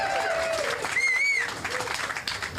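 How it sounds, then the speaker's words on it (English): Outdoor community crowd at a National Night Out event in Hyde Park applauds local police officers, steady clapping and cheering with a whistle and scattered voices mixed in. "How about a round of applause for all the officers at E18"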